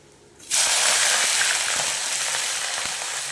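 Chopped onion hits hot oil with whole garam masala in a pan, bursting into a loud, steady sizzle that holds for several seconds, slowly easing a little as the frying settles.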